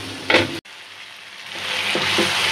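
Spice paste (masala) for a rui fish curry fries hard in a pan, a dense, loud, steady sizzle with a brief sharp break near the start, then a constant hiss alone.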